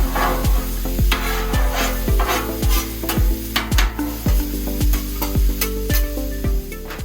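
Beef and broccoli stir fry sizzles loudly on a Blackstone griddle while a spatula tosses it, giving a constant close hiss broken by a steady rhythm of sharp metal scrapes and taps.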